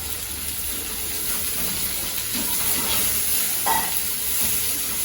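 Chopped chow chow (chayote) and onion sauté in a pan for poriyal, a continuous moderate hiss of frying with faint, occasional stirring scrapes underneath.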